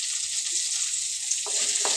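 Okra frying in oil in a kadai gives a steady, close, fine hiss throughout, with a couple of brief louder stirring scrapes near the end.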